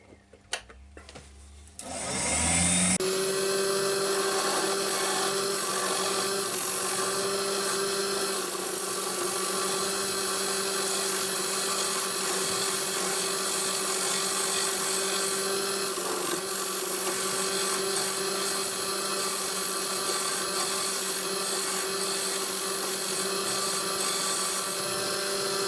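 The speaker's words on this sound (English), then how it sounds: "I'm just going to do a bit of hollowing out now." A woodturning lathe spins a piece of yew while it is hollowed out, starting after a moment of quiet and then running as a continuous steady whir with a constant hum underneath, close and fairly loud.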